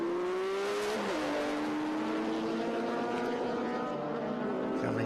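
A Nissan GTR turbo race car accelerates past a BMW at a historic racing festival, its loud engine note holding a steady pitch that drops sharply as it passes, with the drone continuing afterward.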